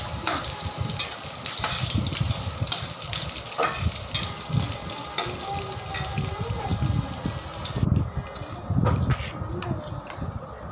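Green chillies sizzling in hot tempering oil for chutney, a crackling fry with stirring clatter and bursts of louder spitting, close and continuous.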